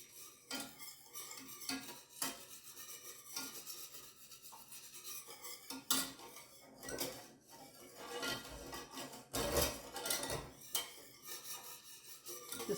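A spoon stirs and scrapes in a pan of creamy turkey pot pie gravy, with soft irregular clinks and rubbing strokes, quiet and close, with no speech.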